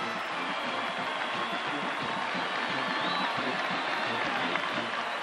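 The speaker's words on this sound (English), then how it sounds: "But this sellout crowd, it started as a sellout crowd, has something to cheer about" A sellout stadium crowd cheers for the Oklahoma Sooners against the Nebraska Cornhuskers in 1996, a steady distant roar of voices and applause that holds level throughout.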